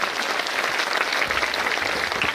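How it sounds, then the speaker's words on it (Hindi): A gathered audience at a village satsang gives loud applause to welcome the villagers, a thick burst of clapping that continues steadily for a couple of seconds without speech. "इन सभी ग्रामवासियों की का जोरदार ताली बजा के स्वागत करें, अभिनंदन करें"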